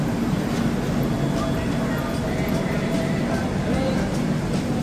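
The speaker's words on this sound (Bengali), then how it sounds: "ট্রেন এসে গেছে আমাদের।" A passenger train waits at Shalimar station at night, bound for Thiruvananthapuram, with a steady low mechanical rumble and murmuring platform voices throughout.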